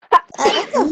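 A single sharp sneeze bursts out nearby, and someone starts talking right after it, during a tabletop role-playing game session.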